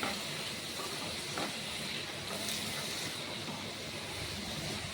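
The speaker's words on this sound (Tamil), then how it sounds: "இது ஒரு அரை நிமிஷம் வதங்க விடுவோம்" Stems of greens sauté in a pan for a coconut-free chutney, giving a dense, even hiss that stays constant throughout with no clear breaks, heard close and fairly loud, without talking.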